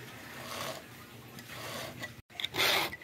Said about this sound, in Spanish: me encuentro más que todo enseñándole cómo es que se amuela la cadena